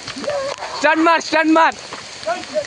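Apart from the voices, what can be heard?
rain falling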